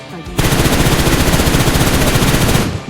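Rapid, sustained automatic gunfire from a shooting video game, a dense continuous burst lasting several seconds with loud, even bursts of shots throughout.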